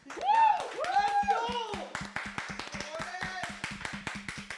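A few people clap sparsely and rhythmically during a CS:GO esports tournament grand final broadcast, light close taps under and after excited voices and a high-pitched exclamation.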